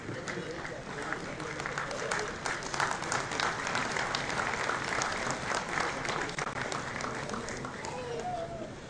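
An audience applauds to welcome a guest at a police felicitation ceremony in a Surat hall. The clapping is steady and dense throughout, with faint voices mixed in.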